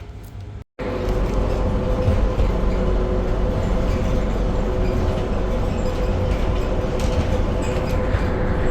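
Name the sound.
airport transit train moving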